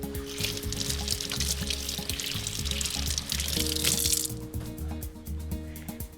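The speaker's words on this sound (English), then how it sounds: "I'm just going to wash up and then I'll make the topping" Washing up at a kitchen sink, with running water pouring and splashing steadily up close, then easing to a softer trickle with a low background hum.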